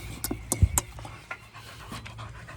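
A dog breathes in quick, soft panting puffs close by, with a faint whimper mixed in and low room noise beneath; no one speaks.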